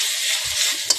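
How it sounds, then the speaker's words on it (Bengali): Bottle gourd leaves and whole garlic cloves frying in oil, a dense continuous sizzle with a brief stirring clack near the end, loud and close, no talk. "লাউ শাকগুলোরে তেলের ভিতর খুব সুন্দর করে ভাজা হয়ে গেছে।"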